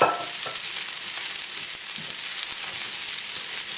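Chilled cooked rice frying in a hot pan for fried rice, a steady loud sizzle with scraping stirs throughout, no talking.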